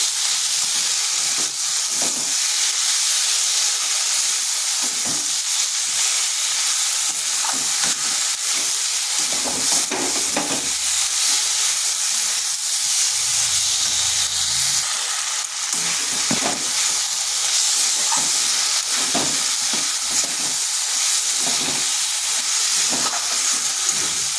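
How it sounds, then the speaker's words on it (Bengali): Spice paste being sautéed and stirred with taro and small morala fish in a pan, a steady loud sizzle and hiss running throughout with occasional scraping stir sounds, no talking. "যতক্ষণ না মশলাটার কাঁচা গন্ধ চলে যাচ্ছে এইভাবে কিন্তু কষাতে হবে।"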